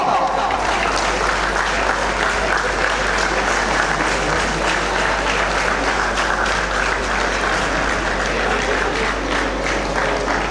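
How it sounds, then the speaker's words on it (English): At a school colours night, a large audience keeps up loud, dense applause for the teachers, an unbroken wash of clapping with a low hum underneath. "please give a louder round of applause as these teachers have done a tremendous service to our school"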